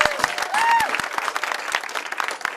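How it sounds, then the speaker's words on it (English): An audience claps in a round of applause at an awards talk, a dense steady patter of many hands close by, with a brief tonal sound rising over it near the start. "Can we give him a big round of applause?"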